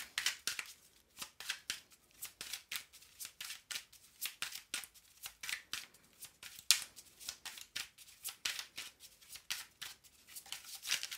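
Tarot-style feeling cards being shuffled by hand, a steady run of crisp riffling and sliding bursts in quick irregular rhythm, close and fairly clear with no talk.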